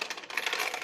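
Metal coins rattling and clinking out of the bottom of a saving box coin bank in one quick, dense cascade, close and bright.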